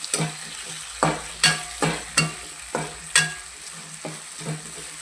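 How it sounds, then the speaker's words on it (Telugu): Potatoes for a crispy potato fry stirred and cooked in a pan, with about eight distinct scraping stirs at a steady rhythm over a soft sizzle, close and alone. "ఇలా కలుపుకొని ఆలుగడ్డలు కొంచెం ఉడికే వరకు ఉడికించుకొని"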